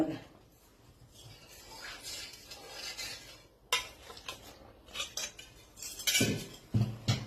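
Milk and sugar being mixed into maida dough in a bowl for shankarpali, with repeated scraping, clinking and stirring that grows busier and louder toward the end, no talk.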